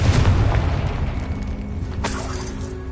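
A Confringo spell blast in Hogwarts Legacy booms at the start, a loud low explosive burst that settles into a steady rumbling tail, with a brighter crackle near the two-second mark.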